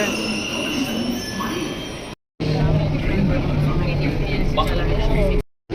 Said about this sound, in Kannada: ಮುಂದೆ ಮೆಟ್ರೋ ಬಂತು